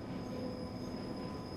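A train in Train Simulator 2014, on the northbound Celle intermodal run, passes over a track switch. The rail rumble is steady and moderate, with a thin sustained metallic squeal above it and no voices.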